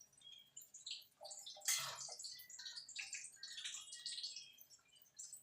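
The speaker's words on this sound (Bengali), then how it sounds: "এখানে দুধ দিয়ে দেবো" Packaged milk poured into a cooking pot while Bengali dudh sukto is being made: a soft, uneven liquid trickle with light splashes and drips, fairly faint, with no voices.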